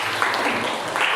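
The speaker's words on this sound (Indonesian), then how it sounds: "Tepuk tangan sekali lagi." A classroom audience claps after a group presentation, a short, steady wash of many hands with faint voices beneath it.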